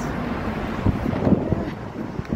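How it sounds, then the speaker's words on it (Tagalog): Wind gusts roar steadily into the microphone outdoors in Saudi Arabia during a sandstorm, a continuous low rumble with no talk. "ang hangin"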